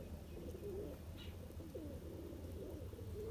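Sialkoti pigeon cooing at a bird show in Jammu and Kashmir, India, a few soft low coos repeating over steady background noise, with no talking.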